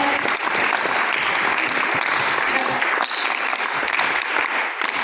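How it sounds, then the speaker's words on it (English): An audience claps at a Farmer Field School event, dense sustained applause from a crowd filling the room at steady volume throughout. "Let's give them a Farmer Field School clap."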